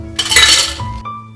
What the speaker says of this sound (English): The second step is to put ice in the shaker and cover with lillet.